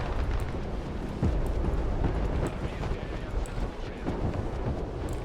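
Explosions from the war video game Broken Arrow, heard as deep booming blasts and rumbling bursts at moderate level over a continuous low roar, with several distinct thumps spread across the stretch.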